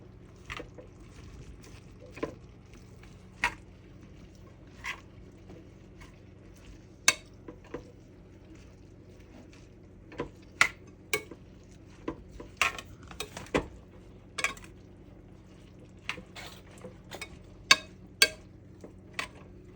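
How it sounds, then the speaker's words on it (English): Scattered clinks and scrapes of a utensil stirring leftover food in a pan, irregular and close, over a faint low background hum. "And then stir it up a little bit more."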